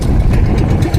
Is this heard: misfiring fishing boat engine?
yes